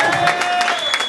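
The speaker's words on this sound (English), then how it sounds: "By applause." A comedy club crowd gives a short burst of applause during a stand-up set, steady and fairly loud throughout, with a voice faintly under it.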